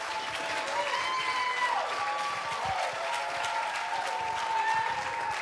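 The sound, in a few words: audience clapping hands for Christopher York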